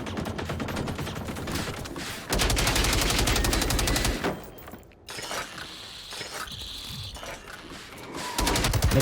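Rapid automatic fire from the N16 5.56 assault rifle in Generation Zero comes in loud sustained bursts with brief pauses, the shots crackling with sharp metallic and shattering impacts.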